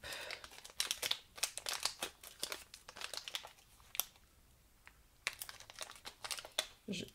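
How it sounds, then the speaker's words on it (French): Packaged items being unwrapped, with repeated crinkling and tearing of wrapping in short bursts close by, under intermittent speech. "je déballe parce que je n'avais pas déballé"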